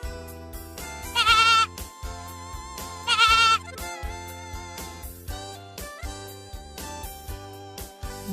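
A goat bleats in two loud, quavering calls about two seconds apart, set among bright synthetic tones and other instrumental sounds, with no talking.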